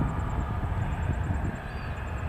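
Airplane on a flight to Nelson, heard from a plane-spotting position as a steady broadband engine roar at moderate distance, fairly even throughout without speech.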